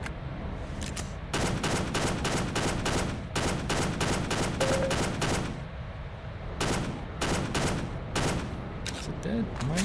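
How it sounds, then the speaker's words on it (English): Gunfire in the Half-Life Delta Particles shooter game: rapid bursts of automatic shots in tight repeating volleys with short gaps, loud and continuous over steady game background noise, followed by a final separate burst. "I'm wasting these bullets."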